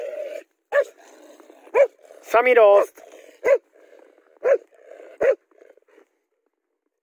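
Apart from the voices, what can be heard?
smaller dog barking at a bigger dog in snow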